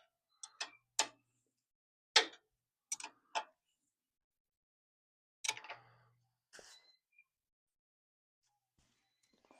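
A 14 millimeter ratcheting wrench clicking on a Kubota Z421 zero-turn mower's front wheel assembly, a few short bursts of sharp ticks separated by pauses, close and fairly quiet.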